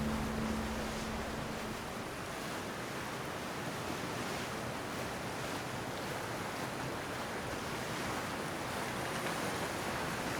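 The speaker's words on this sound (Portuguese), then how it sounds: "as águas esverdeadas batem forte, formando ondas esbranquiçadas" Greenish sea water crashes hard into whitecapped waves beside a boat, a dense continuous roar of surf mixed with wind buffeting the microphone.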